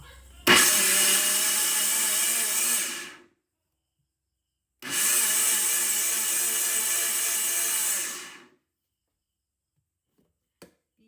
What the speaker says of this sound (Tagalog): Mag-blend sa ko.